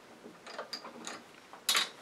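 A chuck ring on a wood lathe is loosened with a few faint metallic clicks and scrapes, ending in one brief louder rattle.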